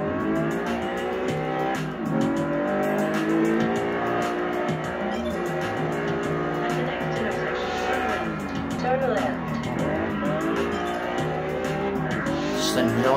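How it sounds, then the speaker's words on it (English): A V12 race car in the Test Drive Unlimited game, engine droning and rising through gears with tires squealing and skidding in corners, someone talking over the steady roar. "Just enjoying this drive, enjoying the car, and easily winning these races."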